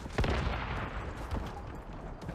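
Grenades exploding in the game Once Human, a dense run of heavy booms and crackling blasts, loud and close, overlapping one another with little pause.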